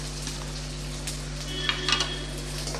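Garlic cloves frying with softened onions in a pan while cooking bitter gourd kuzhambu: a steady, soft sizzle with a low background hum and a few brief stirring clinks near the end.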